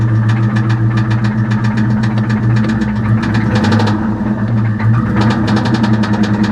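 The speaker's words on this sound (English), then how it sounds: "That is a rod knocking." A Ford Mustang GT engine from a fire-damaged car idles with a steady rumble and a rapid, regular metallic rod knock ticking through it, close and loud, no voices.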